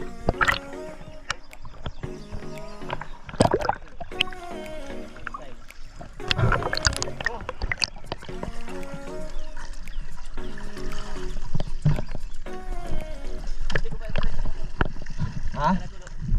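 Water sloshes and gurgles around a small boat in a fishing video game, with knocks and splashes as people talk nearby throughout.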